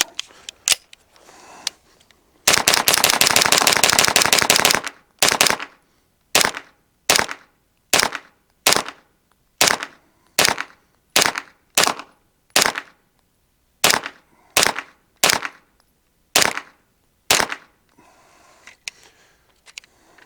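A Springfield Kuna firing CCI Blazer Brass 124 grain rounds outdoors, a rapid automatic burst followed by about fifteen loud sharp single shots in a steady, evenly spaced rhythm, no talking.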